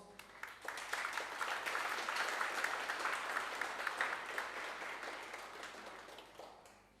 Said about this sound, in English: Could you please stand up and give them a big round of applause?